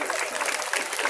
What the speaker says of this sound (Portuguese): Então, Adriana, palmas, por favor.